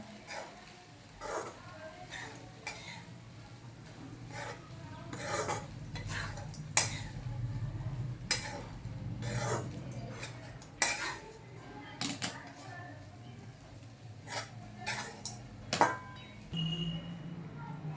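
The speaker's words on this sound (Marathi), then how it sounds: "पोहे त्यामध्ये टाकून घेऊया ते पण व्यवस्थित सगळीकडनं मिक्स करून घेऊया" Poha being mixed in a pan for kande pohe with potato and onion, a spoon repeatedly scraping and clinking against the metal in irregular strokes over a faint background murmur.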